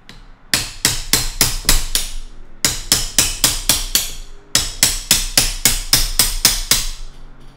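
Loud, sharp hammer blows strike metal in quick bursts of several hits, with brief pauses between each series, during an Inmotion V11 electric unicycle tire swap.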